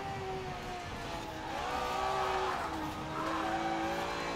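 Ferrari 512 S sliding sideways in the Forza Horizon 4 racing game, with a steady engine drone and sustained tire squeal that rises midway and continues loud to the end.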